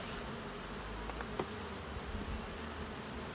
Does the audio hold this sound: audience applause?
no